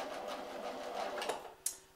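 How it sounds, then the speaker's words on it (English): A sewing machine runs in a fast, even stitching rhythm while attaching keyhole binding, stitching forward, briefly back and forward again to secure the edge, close and steady with a sharp click near the end. "So I'm going to start the machine now, and I always start by going forwards, a little bit backwards and forwards again to bind the edge."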